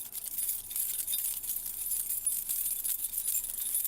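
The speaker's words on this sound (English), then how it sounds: "You want me to key jangle? Fine, I'll key jangle." Keys jangle continuously close by, a faint bright metallic chinking that rattles on and off for a few seconds with no voices.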